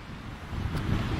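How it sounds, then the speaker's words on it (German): Strong outdoor wind buffets the microphone with a steady low rumble and roar, slightly louder in the second half of the brief stretch, with no talking. "Mann, ist das hier windig!"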